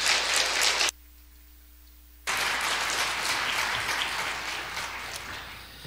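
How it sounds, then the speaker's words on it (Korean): Steady crowd applause from a church congregation during a Sunday service, dense and fairly loud, broken by a short gap of near silence before the clapping resumes and gradually fades. "박수로 한번."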